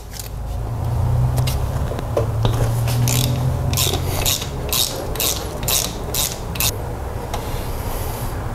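Ratchet wrench loosening a 13 mm tensioner bolt on a BMW E30's M20 engine during timing belt work, a series of sharp, rhythmic clicks over a steady low rumble, close by.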